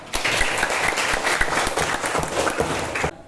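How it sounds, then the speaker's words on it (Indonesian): An audience at a religious lesson applauds: a few seconds of dense clapping, fairly close and even, that stops abruptly. "Berikan aplaus semua."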